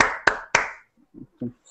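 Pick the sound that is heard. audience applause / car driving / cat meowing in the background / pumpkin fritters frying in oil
audience applause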